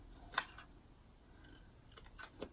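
Scissors cutting fabric for a zipper bag: a sharp snip followed by a few softer cuts, close and quiet with no talking.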